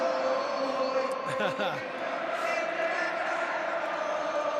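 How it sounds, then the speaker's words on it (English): Football fans chanting at San Siro before the Inter vs Hellas Verona match, a dense sustained crowd roar with rhythmic sung chanting, steady and loud throughout. "And then chanting."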